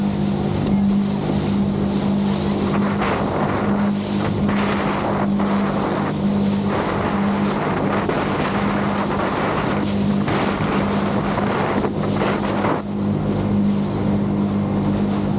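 Motorboat engine running steadily on open water, bought secondhand, heading toward a sandbar; loud continuous motor drone with rushing water and wind buffeting the microphone, no voices.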